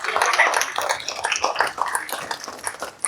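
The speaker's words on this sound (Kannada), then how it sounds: "ಎಲ್ಲರ ಚಪ್ಪಾಳೆಯೊಂದಿಗೆ ಅವರಿಗೆ ಧನ್ಯವಾದಗಳನ್ನು ಸಲ್ಲಿಸೋಣ." An audience at an Uttara Karnataka community gathering in Cincinnati claps to thank farmers, a dense, steady round of applause from many hands lasting a few seconds.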